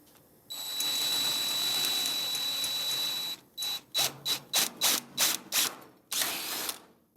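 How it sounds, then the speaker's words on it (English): A power drill drives self-tapping screws into the floor pan of a VW Karmann Ghia: one long, steady whirring run, then a rapid series of short, loud bursts close by, with no talk. "self-tapping screws this time to get the pan tight against the chassis."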